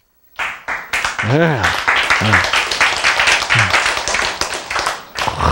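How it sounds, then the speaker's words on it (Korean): An audience at a talk on healing claps together in a dense, sustained round of applause while a speaker's voice rises and falls over it. "여러분이 금방 박수 쳤죠?"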